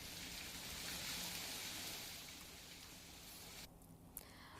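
Heavy rain falls in Rajkot as a continuous hiss, fairly even throughout, with a brief dip and a small tap near the end.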